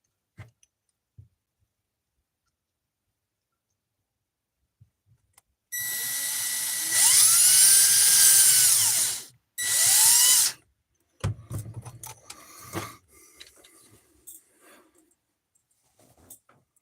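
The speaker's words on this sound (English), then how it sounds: "Drill." A power drill whirs in two loud bursts, the motor spinning up and down, followed by clicks and handling clatter.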